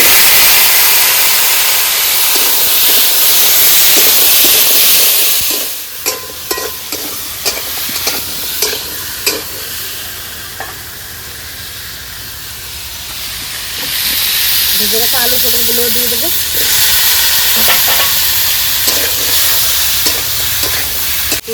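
Pumpkin pieces added to browned onions in a pan, a loud hissing sizzle that drops back into scraping and stirring clatter, then swells again into steady frying, with no voices.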